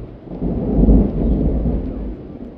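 Bijao leaves shaken hard in a healing ritual inside a small room, a loud, dense rushing flutter that rolls and swells like wind and distant thunder, with no voices.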